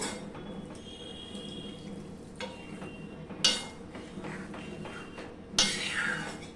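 Water is poured into a pan of fried broccoli in two short splashing bursts over a low background hum and faint kitchen clatter.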